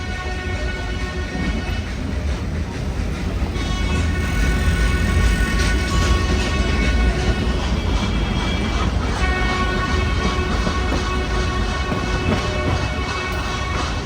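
Nilgiri Mountain Railway steam locomotive train running on the Mettupalayam to Ooty line, a loud continuous rumble and clatter of wheels and carriages with a sustained hum, close by throughout, no clear voices.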